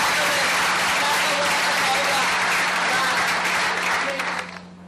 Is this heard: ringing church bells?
no